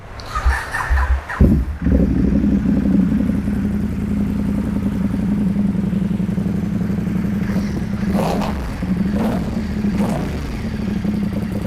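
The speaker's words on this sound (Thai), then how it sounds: "เดี๋ยวลองฟังเสียงเครื่องยนต์กันดูนะครับ" A Ducati X-Diavel S 1262cc motorcycle (2017) with an aftermarket exhaust starts with a clatter and settles into a steady, deep idle with a throaty exhaust, occasionally blipping slightly, close by.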